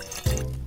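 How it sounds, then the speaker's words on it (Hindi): Water splashes into a saucepan while making watermelon juice syrup for miniature ice cream, a short close pour with a low gushing start that settles into a steady trickle, no voices. "एक सॉसपैन में थोड़ा पानी डालें"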